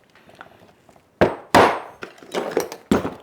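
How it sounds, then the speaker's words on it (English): Rivets being set into the bottom of a leather ditty bag in a bushcraft workshop, with four or five sharp, loud hammer strikes spaced irregularly after a quiet start, each ringing briefly before fading. "I'm gonna put 2 more rivets across the bottom."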